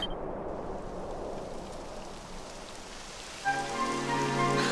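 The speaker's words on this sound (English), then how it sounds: "It would have to go and start raining, wouldn't it?" Rain falling steadily in the Dragon Quest video game, a dense even patter at moderate volume, joined near the end by a rising tonal game sound layered over the downpour.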